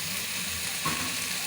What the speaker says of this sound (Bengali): এবারে এর মধ্যে আমি চিকেনের পিসগুলো অ্যাড করে দেবো।